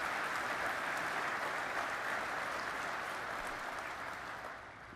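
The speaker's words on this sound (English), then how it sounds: "A round of applause for the pipes and drums and the color guard" Steady applause from a large crowd honors the pipes and drums and the color guard at a 9/11 twenty-year memorial event, filling the whole stretch before fading slightly at the end.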